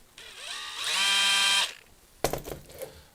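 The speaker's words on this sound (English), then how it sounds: "I've got my drill." A cordless drill run at low speed during a 300Tdi R380 clutch slave cylinder rebuild whirs up in a rising whine, holds for about a second and stops, followed by a short clattering burst nearby.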